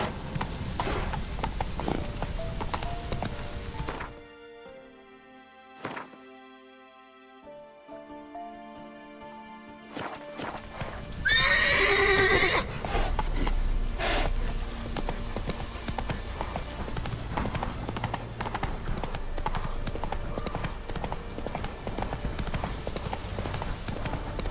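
Horse hooves clip-clop steadily in The Witcher 3 over in-game ambience and music, dropping away to near silence for a few seconds midway before the gallop resumes, with someone speaking briefly.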